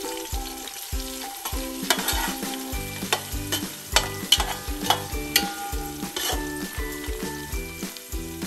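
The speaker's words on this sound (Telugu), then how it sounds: "ఇది కాస్త గోల్డెన్ కలర్ వచ్చి క్రిస్పీలా అయ్యింది అని మీకు అనిపించేంత వరకు ఫ్రై చేసుకోవాలి" Something for bagara rice fries in hot oil until golden and crisp, a loud continuous sizzle broken by regular spatula stirs scraping the pan in a steady rhythm.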